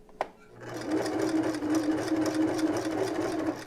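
A sewing machine runs steadily for about three seconds, stitching a magnet into a nursing bra, after a brief sharp click at the start.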